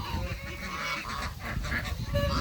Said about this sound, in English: I'm just going to sit here and watch these geese